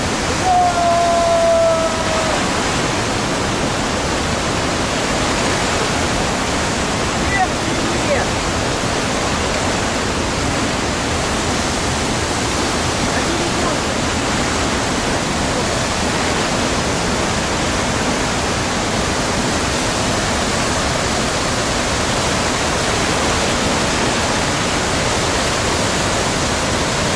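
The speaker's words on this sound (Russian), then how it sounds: "Водопады Чулышмана." The Chulyshman waterfalls roar steadily and loudly throughout, a dense unbroken rush of water with no pauses.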